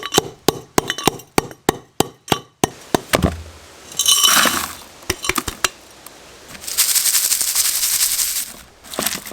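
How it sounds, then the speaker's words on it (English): A hammer whacks gold-bearing ore rocks to break them into smaller pieces, a rapid series of sharp, loud clinking strikes followed by scraping and shuffling of the broken stone, with no voices. "We are just going to give this a nice couple of whacks to break these bits down further"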